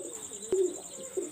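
A yellow-eyed Indian Kaldum pigeon gives soft, close coos, a short murmuring call with a couple of brief accented notes over faint background noise.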